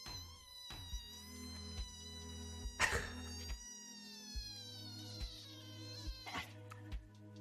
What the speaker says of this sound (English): That's a screechy kitty